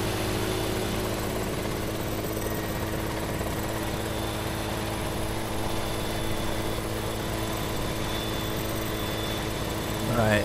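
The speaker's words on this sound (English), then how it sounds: "There's my helicopter on the roof." A helicopter in Farming Simulator 17 gives off a steady, loud engine and rotor drone that fills the whole stretch and swells slightly at the very end.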